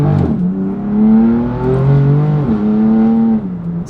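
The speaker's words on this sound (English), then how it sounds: "So there is that little bit of S55 rasp that peeks its head through there" A BMW M4 CS with the S55 engine accelerates hard, a loud, raspy engine note climbing in pitch, dipping briefly at a shift, then pulling again, heard close from inside the car with no talking.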